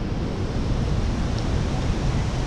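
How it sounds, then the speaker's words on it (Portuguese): A waterfall pours steadily close by, a dense, unbroken rush of white water with no voices over it. "Aí tá uma queda d'água ali."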